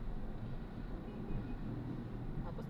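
An LRT light rail train runs with a steady, dense low rumble and rolling rail noise heard from on board, continuous and fairly loud throughout, with a faint brief squeal near the end.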